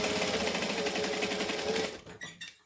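Sewing machine back stitching along a bag strap on a decorative stitch length, a steady close rapid whir of needle strokes running for about two seconds, then a few short bursts as the stitching slows and stops.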